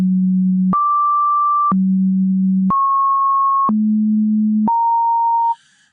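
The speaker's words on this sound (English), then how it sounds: "what we're getting there is kind of an unpredictable sample of the sine wave at that point" Pure synth tones from a sample-and-hold sampling a sine wave, stepping abruptly between a low pitch and a high pitch about once a second, five even steps, then cutting off.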